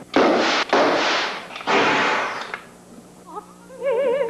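Stage pyrotechnic effects detonate in a theatre production, three loud, close, roaring blasts in quick succession that fade into a rumble, followed by warbling electronic tones.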